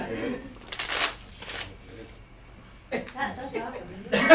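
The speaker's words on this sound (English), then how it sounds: "give the deck a shuffle" Deck of playing cards being shuffled during a casual home magic show, quick papery riffles in bursts with chatter and voices around it.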